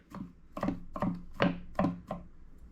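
A knife minces ingredients on a cutting board for a Vietnamese caramelized braised catfish. Five or six distinct, fairly loud chops land at a steady rhythm, with no talking.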